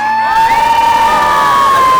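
A crowd at an outdoor Eid event in Trafalgar Square erupts in cheering, whooping and high-pitched shouts, loud and sustained for about two seconds, with children's voices prominent among the noise.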